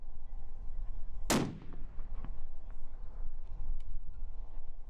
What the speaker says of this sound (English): a big old .416 Barrett, shooting the cutting edge 395 grain bullet